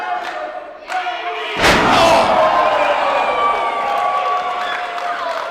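A heavy thud of a wrestler slammed onto the mat with a belly-to-back driver at a professional wrestling championship match, followed by a roaring crowd and continued noisy cheering.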